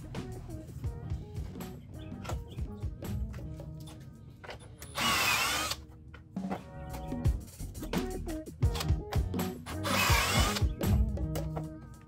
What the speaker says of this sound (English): Now that we got our pocket holes drilled